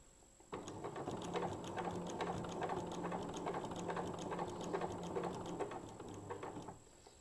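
Close sewing machine stitching around the fabric edges of a wrist strap pin cushion, a continuous rapid whirring run of about six seconds that starts and stops abruptly, with no talking.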